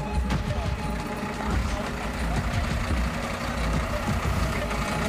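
A fire engine's heavy diesel idles with a steady low rumble while the crew tries to get it around a tight bend on a narrow road overgrown with old trees and hedges, and a faint beep may sound in the background.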